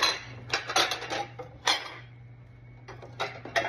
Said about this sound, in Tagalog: Mga plato. Assorted plates.